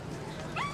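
A dog gives a brief whimpering yip, a short rising cry near the end of a clip of low rumbling background noise, amid the aftermath of the World Trade Center tower collapse.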